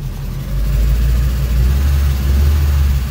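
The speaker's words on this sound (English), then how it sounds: "give it a bit of a rev when you're letting it out" A Mazda Miata's engine, just converted to a manual gearbox and up on jack stands, revs steadily and loudly up close as the clutch is let out in first gear, a low droning hum with no talk.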